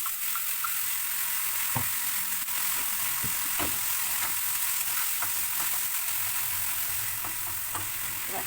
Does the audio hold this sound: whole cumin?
yes